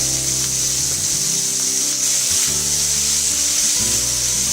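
Salted tomatoes fry in a pan for kadai paneer, giving a continuous hissing sizzle with quiet scraping, set against steady tonal background music.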